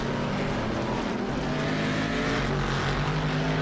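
A GT race car engine roars continuously at Road Atlanta, a dense, sustained loud drone with steady harmonic buzz and no breaks for the whole stretch.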